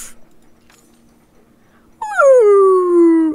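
A dog in the video game Palia lets out a loud, drawn-out howl that slides downward in pitch for over a second, after a quiet stretch holding only faint low hum and a brief soft yip at the start.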